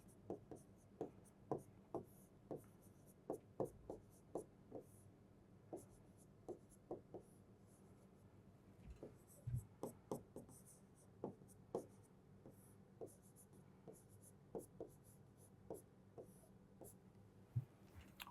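Chalk or marker writing on a board during a Class 9 geography lesson: a steady run of short, scratchy strokes in irregular rhythm, close and fairly quiet, with no talking over it.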